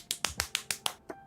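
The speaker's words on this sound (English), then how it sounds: "it was me clapping" Seven sharp hand claps in quick succession, fairly close and crisp, with short even gaps and a slightly longer pause before the last, no voices over them.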